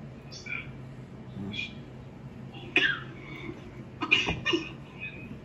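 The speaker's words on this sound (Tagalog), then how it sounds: "Oh, si Sir, inuubo na siya." A man coughs a few times in short, sharp bursts amid low background noise at a Filipino mukbang meal, with faint voices and clatter around.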